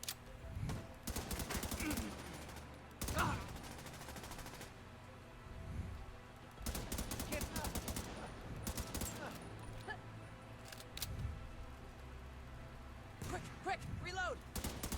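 Rapid automatic gunfire bursts in a firefight in the video game The Division 2, repeated loud volleys with short gaps, mixed with game sounds and voices.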